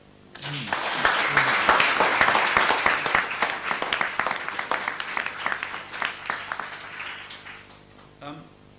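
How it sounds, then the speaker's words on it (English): An audience applauds at a celebration of the landscape gardener Humphrey Repton, a dense, sustained round of clapping lasting about eight seconds, with voices mixed in as it tails off. "And I would like you to applaud Robert."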